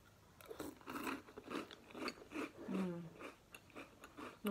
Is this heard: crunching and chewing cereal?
yes